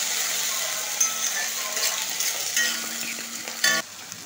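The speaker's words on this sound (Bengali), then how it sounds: "আমি এখন এগুলো কিছুক্ষণ সময় ধরে একটু কষবো, যাতে আদা রসুনের কাঁচা গন্ধটা চলে যায়" Ginger, garlic, onion and tomato sauté in a pan with a steady sizzle, broken by a few clinks and scrapes of a stirring spoon against the metal.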